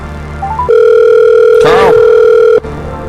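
Telephone tone for placing a call: a short soft rising blip, then a loud steady tone held for about two seconds with a brief warbling chirp midway, cutting off abruptly.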